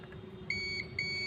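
A multimeter's continuity buzzer beeps during testing of an electric iron, giving three short, thin, high beeps in quick succession over a low steady hum.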